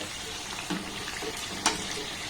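Naan puri deep-frying in hot oil, a steady soft bubbling sizzle with a couple of brief sharper spatters, moderately close and alone.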